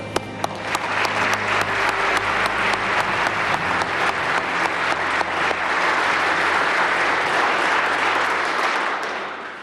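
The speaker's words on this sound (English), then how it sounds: "A round of applause." At a police award ceremony the audience gives a long round of applause, a thick, even roar of many hands over a low hum, fading at the close.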